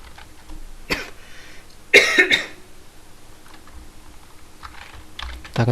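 Keystrokes on a computer keyboard while entering data into a spreadsheet: a single sharp click, then a short cluster of taps, and another click at the end, all fairly quiet and close with no talking.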